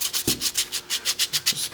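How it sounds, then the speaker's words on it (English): Sandpaper rubs back and forth on a small tricopter part being sanded flat, about a dozen quick, evenly spaced scraping strokes, close and clear. "Just basic sanding."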